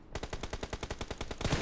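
Rapid automatic gunfire from a TDM mobile shooter game rattles off in a steady burst of about a dozen evenly spaced shots, close and loud, continuing without pause.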